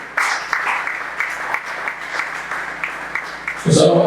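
A church congregation bursts into applause and cheering for the Lord during a sermon on generosity, a steady wash of clapping under a loud voice, with a heavier swell of crowd noise at the end.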